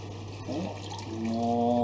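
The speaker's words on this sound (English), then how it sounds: "You're going to want to add about half a bottle of wine per kilo of meat approximately." Wine is poured from a bottle into a pot of beef bourguignon, a short, fairly quiet trickling and glugging of liquid that swells slightly toward the end.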